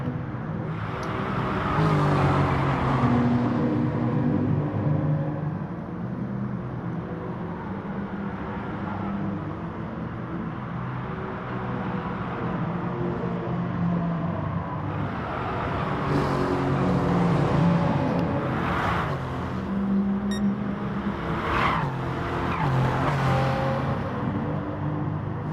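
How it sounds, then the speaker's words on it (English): Race cars, a BMW among them, lapping a circuit, their engines revving and droning loud and close, swelling and fading as they sweep past one after another. "Wilco running really wide there. He might get overtaken by Canny and Martin here"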